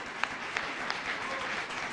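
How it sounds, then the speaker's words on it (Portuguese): A church congregation applauds together in a steady, even wash of clapping that stays moderately distant and sustained throughout, with no one speaking over it. "Uma salva de palmas ao Espírito Santo."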